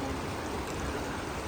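A mountain stream rushes along a road in Zanskar, Ladakh, making a dense, even hiss of flowing water that fills the short stretch.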